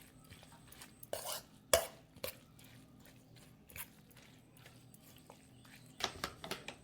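A spoon scrapes and clinks against a bowl as bottle gourd batter with salt is stirred and mixed, in irregular bursts of wet squishing and sharp taps, close and fairly quiet, with no talk.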